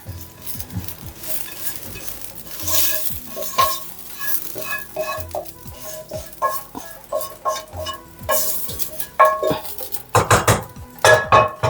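Kootu curry gets stirred and mixed in a pan, with irregular metallic clinks, scrapes and knocks of a spoon against the vessel and a light sizzle underneath, growing busier and louder toward the end.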